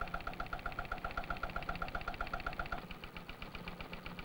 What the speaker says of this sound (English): In this, a knock rate engine, it is being deliberately caused.